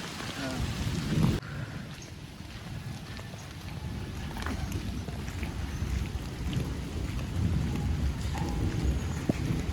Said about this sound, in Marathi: सानू वरती भिजते पावसात आहे